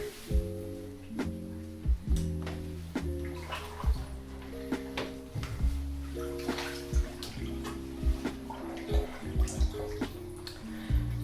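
Water sloshes and splashes in a bathtub as a man shifts in it, with scattered close splashes and drips over soft background music.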